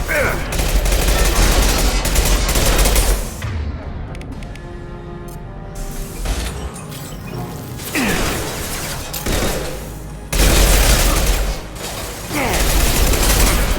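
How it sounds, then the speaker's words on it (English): Loud bursts of rapid gunfire from a Mass Effect 2 firefight, including a heavy impact shot, with mechanical clanks and hissing between volleys and brief voices calling out over the shooting. "Firing an impact shot!"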